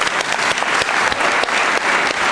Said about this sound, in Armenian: մեծ ծափանենք ինքներս մեզ։